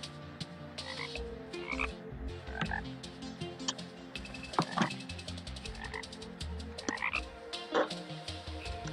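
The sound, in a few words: frogs croaking in Terraria video game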